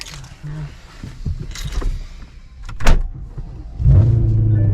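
Shuffling and clunks inside a car give way to a freshly rebuilt engine starting with a loud, deep rumble near the end, with some brief talk.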